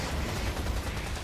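Gunfire in the shooter video game Freedom Wars: a steady, dense rattle of shots runs through the whole short stretch, loud and continuous with no clear gaps between rounds.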